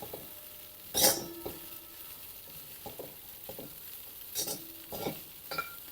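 Poha being stirred in a pan over a low flame, quiet scraping and occasional metallic clinks of a spoon against the pan, spaced out and faint with a light sizzle beneath.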